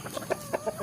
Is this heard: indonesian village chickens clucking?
yes